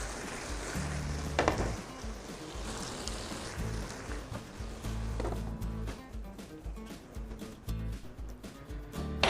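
Potatoes and tomatoes cook in a covered pan over low-to-medium heat, giving a soft, continuous sizzle and bubbling hiss with a few faint knocks. The sound is quiet and close.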